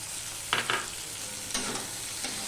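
Ginger, green chillies and tomato are stirred into a sizzling magur fish curry with broccoli, giving two short bursts of scraping spatula strokes over a steady frying hiss.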